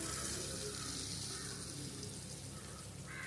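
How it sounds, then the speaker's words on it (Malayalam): Manthal fish fry in hot oil over a medium flame, a continuous dense sizzle and crackle that stays loud and steady throughout, with no voices. "എണ്ണ ചൂടാവുമ്പോൾ ഓരോരോ മീൻ ഇട്ട് കൊടുത്ത് നമുക്കൊന്ന് വേവിച്ചെടുക്കാം"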